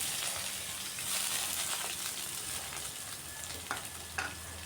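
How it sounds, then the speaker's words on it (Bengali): Chopped onion fries in a pan with five-spice seasoning, a steady close sizzle and crackle holding at even loudness, with a few sharper pops near the end. "পেঁয়াজ কুচিটা দিয়েও আরও কিছুক্ষণ ভাজা ভাজা করে নিতে হবে"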